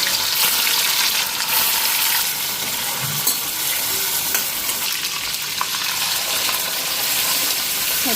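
Paneer fries in a pan with a bright, continuous hiss and sizzle, close and fairly loud, with a few small clicks of stirring along the way.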